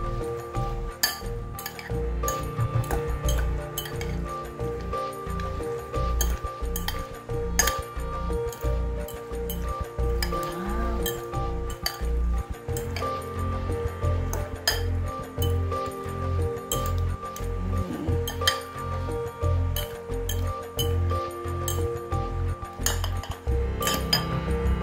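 Cucumber, tomatoes and red onions are tossed together in a bowl, giving steady close clinking and scraping of a utensil against the dish with soft wet rustles, continuing for about twenty-five seconds.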